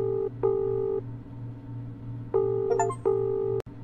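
A phone number is dialed in the Escape Memoirs video game: a series of clear, steady telephone keypad tones, a long pair, a pause, then several shorter beeps ending in a sharp click, over a low hum.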